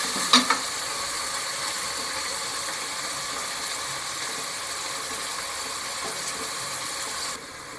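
Onions frying in a pan with salt added, a continuous soft sizzle with a couple of sharp clicks near the start, steady and close, ending with a slight drop in level.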